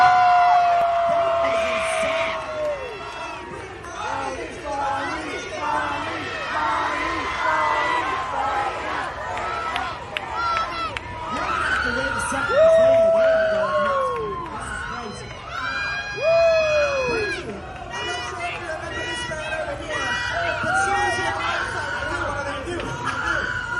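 A large event crowd cheers wildly in a sustained roar, with shouts, screams and chatter rising and falling over about twenty seconds.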